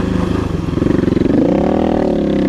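A dual sport motorcycle rides a trail near Colorado Springs, its engine loud and close with a steady pulsing drone that rises in pitch as it speeds up.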